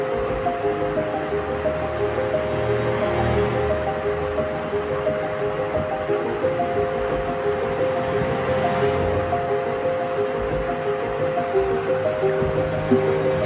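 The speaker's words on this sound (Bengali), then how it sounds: "চাটনি ফুটে উঠেছে।" A pan of chutney made from dates, cranberries, dried mango and raisins boils steadily, giving off a continuous close bubbling hiss with no talking over it.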